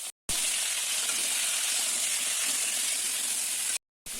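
Chopped vegetables tipped into masoor dal frying in oil, giving a sudden, steady hissing sizzle that holds for several seconds, then cuts out in a short silence and briefly resumes.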